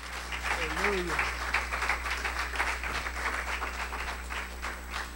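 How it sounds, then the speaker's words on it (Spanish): A church congregation applauds in praise, a steady wash of clapping heard from a distance under a low hum, with a voice briefly speaking over it at the start. "Dale un fuerte, fuerte aplauso al Señor que Él se lo merece."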